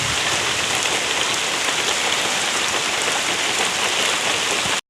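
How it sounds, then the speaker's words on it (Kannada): Heavy rain pours steadily and loudly, a dense unbroken hiss of drops drumming on surfaces close by, with no voices. "ಜೋರು ಮಳೆ ಬರ್ತಾ ಇದೆ"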